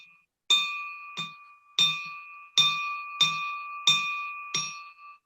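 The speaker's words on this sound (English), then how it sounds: "Eight bells." A bell rings eight times in four quick pairs, each strike clear and ringing with a short decay, close and loud at a Rotary club meeting.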